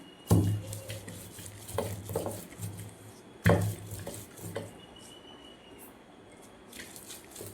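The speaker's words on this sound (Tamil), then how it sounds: "மிளகு, ஜீரகம், வெள்ளைப்பூடு, கருவேப்பிலை எல்லாத்தையும் இடிச்சாச்சு" Two heavy thuds of pounding black pepper, cumin, garlic and curry leaves in a stone mortar for rasam, amid clinking and scraping of utensils in a quiet kitchen, with scattered lighter taps.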